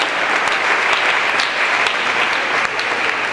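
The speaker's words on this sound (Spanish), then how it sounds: "Dele bien fuerte ese aplauso al Señor." Loud, sustained applause from a church congregation forms a thick, even roar of clapping hands that stays strong from start to finish, with no talking heard.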